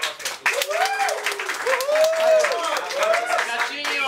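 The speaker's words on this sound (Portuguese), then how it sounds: "Uma salva de palmas para" Applause from an audience at the closing ceremony of LabJogos 2015, a steady crowd clapping that fills the whole stretch, with voices and shouts rising over it.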